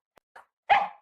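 Toby the tracking dog gives two faint, short yips, then one loud, close bark that fades out over a fraction of a second.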